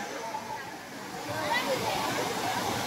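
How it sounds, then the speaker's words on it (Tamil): A waterfall in the middle of a tea plantation in Sri Lanka gives off a steady rushing, hissing roar of falling water that swells slightly louder partway through, with no clear voices. "இப்படி மேலே இதுதான் வாட்டர்ஃபால்"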